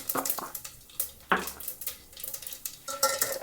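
Cumin seeds splutter in hot oil on a stove after mustard seeds, making irregular close crackles and pops with occasional sharper snaps and light utensil clatter.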